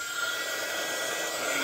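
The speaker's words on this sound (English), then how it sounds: "we're just going to give this a little going over with our heat gun again" A heat gun blows hot air over a handmade paper card, a steady, loud, even whoosh with a bright hiss that holds unbroken throughout.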